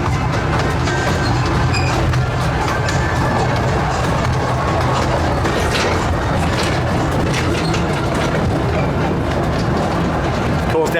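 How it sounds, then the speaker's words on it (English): Thomas-themed train ride running its circuit at Drayton Manor, a loud, continuous rumble of wheels on track with rattling carriages, and a voice talking over it. "they have 2 trains on the circuit at one time"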